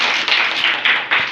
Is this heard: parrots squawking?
no